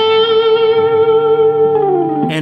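Electric guitar plays a blues rock lick, opening on a long sustained bent note with slight distortion that slides down near the end, loud and alone, followed by a brief pick attack.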